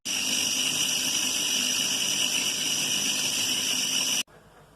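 A kitchen food chopper grinds chilies, ginger and garlic with half a cup of water into a paste, a loud steady high-pitched motor whir running continuously for about four seconds, then cutting off abruptly.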